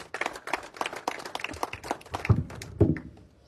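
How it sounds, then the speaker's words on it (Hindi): Audience applause at an Ajmer gathering: many hands clapping in a dense, steady patter for several seconds, with a couple of louder, closer claps near the end and no voices over it. "निश्चित रूप से उनके लिए तालियां आप सभी बजाएं"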